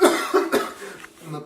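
A person coughing in a salon: a short cluster of three or four close, moderately loud coughs, the last ones trailing off into a quieter throat sound.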